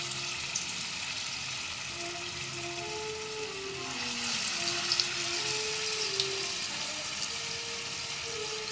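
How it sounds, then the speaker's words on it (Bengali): Green banana koftas deep fry in hot oil, a soft continuous bubbling sizzle heard up close with faint tonal hum in the background. "এবারে আমি কোপ্তাগুলো বানিয়ে নেব, দিয়ে ভেজে তুলে নেব।"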